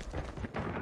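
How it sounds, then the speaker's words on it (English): A Predator missile strike in Call of Duty Mobile lands as a short, heavy, booming blast with a rumbling, crackling body, all over in under a second. "Predator missile inbound."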